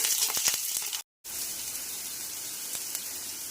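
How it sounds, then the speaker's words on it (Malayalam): Chopped onion, carrot, chili and curry leaves sizzle in hot oil for semiya upma, a steady bright frying hiss with a brief total dropout partway through and no talking. "ഇതിലേക്ക് സവാള അരിഞ്ഞതും ക്യാരറ്റ് അരിഞ്ഞതും മുളക് അരിഞ്ഞു വെച്ചേക്കുന്നതും കറിവേപ്പിലയും കൂടി ചേർത്ത് വെക്കാം."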